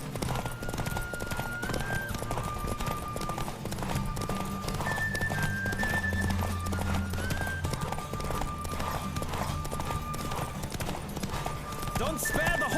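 Galloping horse in a race in The Witcher 3, rapid hoof clip-clop running throughout with occasional whinnies, mixed under game music and a voice talking.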